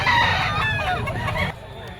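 A gamefowl bull stag rooster at a busy Bocaue, Bulacan pet market crows loudly and close, one full drawn-out crow ending abruptly, over a crowded background murmur.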